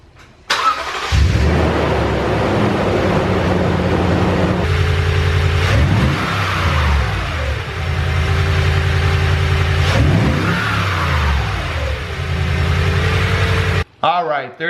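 Toyota Tundra V8 fitted with a TRD cold air intake cranks and fires on a cold start, settling into a loud, steady fast idle with a couple of rising-and-falling engine swells, then cuts off near the end, with voices over it.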